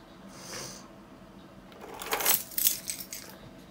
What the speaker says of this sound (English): That was the sound of my amazing keychain.